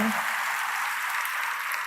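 Steady, dense clapping from an audience at a Telugu church sermon, a continuous wash of hands at even loudness with no voice standing out above it.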